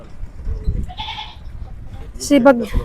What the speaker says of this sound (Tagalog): Ayun yung aming kambing umiiyak.